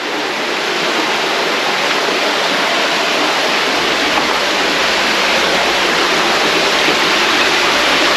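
Water rushing through a flooded passage in an old New Zealand coal mine, a loud, constant roar of flow echoing close by without a break or voices.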